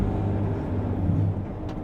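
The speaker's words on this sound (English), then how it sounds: "The way it shifts gears like that, on point, super fast." Scania engine in an American-made truck shifting gears on the road: a steady, loud engine drone heard from inside, dipping briefly as the gear changes, then pulling on again.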